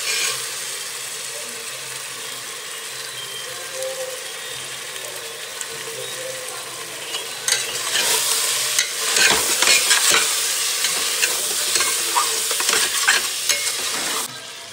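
Chicken for biryani sizzles steadily in hot oil while being stirred, with louder scraping and clattering strokes of the spoon breaking in partway through, close and continuous.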